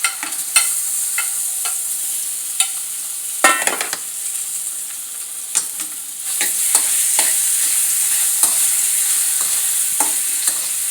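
Banana pieces stirred and frying in hot ghee in a pan, a steady bright sizzle with repeated scraping stir strokes throughout, close and loud, no talking.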